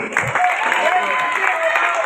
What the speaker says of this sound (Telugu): చప్పట్లు గట్టిగా అందరికీ